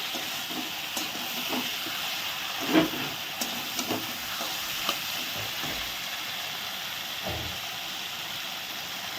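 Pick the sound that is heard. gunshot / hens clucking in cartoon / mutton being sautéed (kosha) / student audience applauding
mutton being sautéed (kosha)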